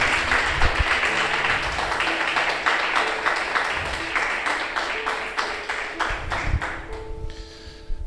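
Church congregation giving a loud round of applause to the Lord, dense clapping that thins toward the end with some voices mixed in and a brief tonal sound at the close.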